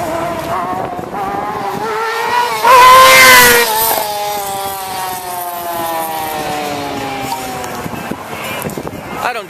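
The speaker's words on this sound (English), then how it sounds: "So you hear engines, which means bike night is over." Motorcycle engines revving and passing at a bike night gathering in Santa Rosa, California, with rising and falling engine tones, one loud close pass building up, and people talking amid the noise.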